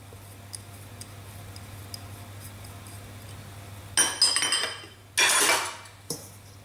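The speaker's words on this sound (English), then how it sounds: "Try and mix that lemon zest around" Caster sugar and lemon zest mixed in a bowl for amaretti: a quiet, humming room at first, then two brief bursts of gritty scraping and clinking against the bowl.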